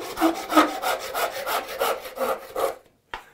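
Hand saw cutting a wooden board along a marked line, close and clear: a rhythmic series of about nine rasping push-pull strokes, then a brief silence and one last scrape.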